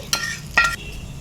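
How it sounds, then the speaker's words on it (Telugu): Oil sizzles steadily as curry leaves fry in a tempering for peanut-coriander chutney, with two sharp bursts of crackling and spattering about half a second apart. No talking. "కొంచెం కర్రీ లీవ్స్ కూడా వేసేయాలి వేసి కొంచెం మంచిగా ఫ్రై అయ్యే వరకు ఉంచి"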